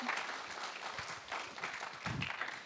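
Congregation at a GBI Gilgal Manado church service claps in praise, a moderately quiet, continuous patter of applause with slight swells, heard alone without speech over it.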